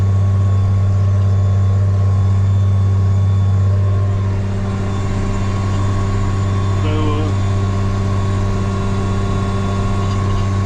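A farm tractor with a front loader runs in a wet corn field, a steady low engine drone holding close and constant throughout, with a brief faint clatter midway.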